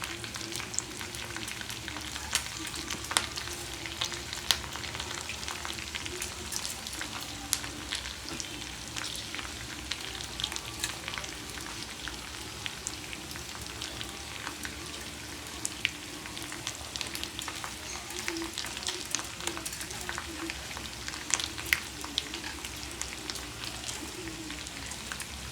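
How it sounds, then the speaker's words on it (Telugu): Spices tempering in hot oil for pulihora (tamarind rice), a steady soft sizzle and crackle throughout, with faint bird cooing in the background and no talk. "పోపు వేగుతుంది."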